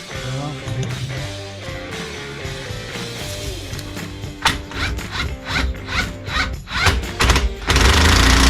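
Impact gun driving a nut through wobble extensions on an Audi Q7 suspension during brake and suspension work, heard in repeated short bursts of rattling hammering over a steady mechanical background, fairly close and loud.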